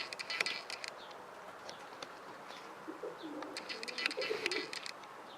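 A pure Stichelbaut racing pigeon coos softly and close by in a quiet loft, with a few low murmuring coos and scattered faint chirps and light taps around them.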